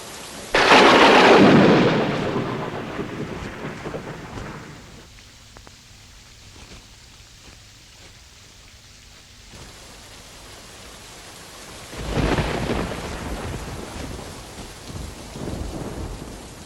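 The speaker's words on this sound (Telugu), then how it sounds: "వర్షం బాగా కురుస్తుంది" Heavy rain pours in a steady roar while thunder rumbles loudly at the start, eases into a quieter patter, then swells again near the end, with no voices.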